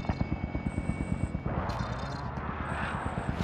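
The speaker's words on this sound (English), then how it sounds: "Enemy attack chopper is in the AO." Enemy attack helicopter in Call of Duty: Modern Warfare, its rotor a steady rapid thumping throughout, loud and close, over a busy game soundscape with a brief sharper burst midway.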